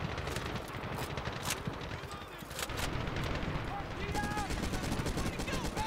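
Rapid bursts of gunfire in the war video game Medal of Honor, dense repeated automatic shots with louder cracks, continuous over several seconds while someone talks over it.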